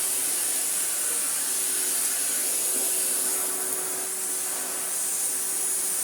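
An Electrolux Excellio Power Max Super Silence vacuum cleaner runs steadily at high power, a loud continuous airy whoosh with a constant hiss and no breaks.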